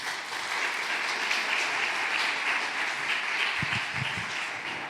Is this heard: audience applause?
yes